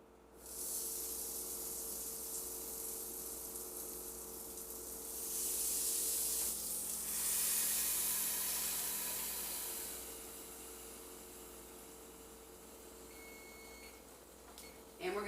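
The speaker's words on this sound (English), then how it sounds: "And then we're going to spray it." Cooking spray hisses in a long, soft burst onto cinnamon roll dough pressed into a waffle iron, with a steady faint background hum around it.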